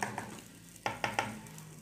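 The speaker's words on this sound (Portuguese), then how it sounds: "tá fritando pra mim fazer o arroz aqui. Eu deixo o arroz dar uma fritadinha aqui." Rice fries in a pan on a home stove with a soft, constant sizzle. Three sharp clacks of a utensil stirring against the pan rise above it in quick succession, with a few fainter knocks earlier.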